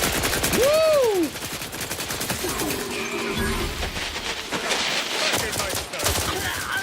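Rapid gunshots crackle in a firefight in The Outer Worlds 2 while snipers shoot, fairly loud and close, with a sharp whistling sweep near the start and repeated shots running throughout.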